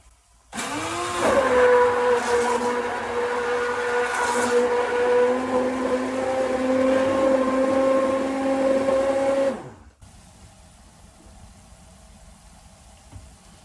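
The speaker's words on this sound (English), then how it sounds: "Stick blender." A stick blender whirs with a steady high-pitched motor hum for about eight seconds, then shuts off, leaving quiet room noise.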